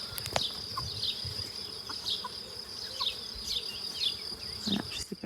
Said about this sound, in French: c'est bourré d'insectes, d'abeilles